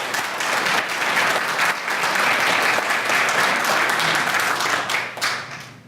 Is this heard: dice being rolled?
no